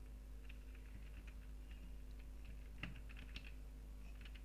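Typing on a computer keyboard: faint, irregular soft clicks of keys in quick bursts over a steady low hum.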